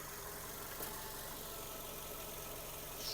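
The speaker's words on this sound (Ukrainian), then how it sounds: "Робота двигуна." A Skoda Octavia 1.6 MPI engine idles steadily with a low, even rumble and faint mechanical ticking, close by and unchanging throughout.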